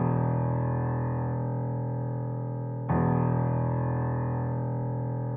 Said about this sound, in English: Then I added this slow piano from Contact